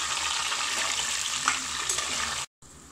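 Cashews and raisins fry in oil with a dense, bright sizzle and faint stirring, close and continuous before cutting off abruptly near the end.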